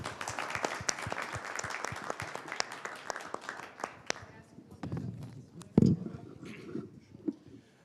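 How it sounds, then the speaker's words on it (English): An audience at a conference on sustainability in police and security services applauds the panelists with brisk clapping that fades after about four seconds, followed by quieter voices and movement. "join me in giving our panelists a big round of"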